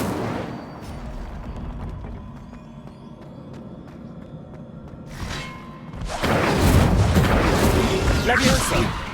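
An Incendio fire spell in Hogwarts Legacy: a muffled boom early on, a low rumbling game ambience, then a sharp whoosh and a loud, sustained roaring blast of flame in the second half.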